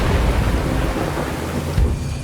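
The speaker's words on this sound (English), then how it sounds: "A soothing breeze may grow into a squall, drowning the island in lashing rain." A thunderstorm from a video game trailer, with loud rumbling thunder rolling under heavy lashing rain, close and full throughout, with a sharper low crack near the end.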